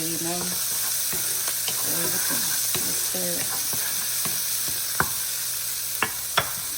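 Cooked lentils fry in a pan with a steady, close sizzle and occasional sharp pops and scrapes of stirring, while a voice speaks briefly in the background.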